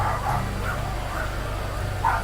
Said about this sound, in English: My dogs are excited.